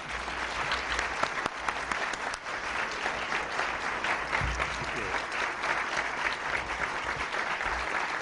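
An audience at a National Press Club luncheon gives sustained applause to welcome a speaker. Dense, steady clapping from a full room fills the whole stretch, loud and unbroken.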